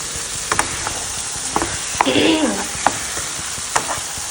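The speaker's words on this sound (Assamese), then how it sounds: "আৰু এয়া ধুনীয়াকৈ কচুখিনিও ভাজি ল'ম বিলাহীখিনিৰ লগত।" Boiled taro frying with tomatoes in a pan over a high flame, with a burst of sizzling near the middle and scattered stirring clinks and scrapes before and after, close and moderately loud with no talking.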